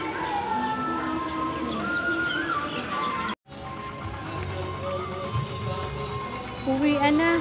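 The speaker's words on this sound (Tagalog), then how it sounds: "Ang daming ibon." Many birds call and coo steadily at Lotus Pond in Kaohsiung, a dense chorus of repeated notes and chirps that carries on through the whole outdoor scene.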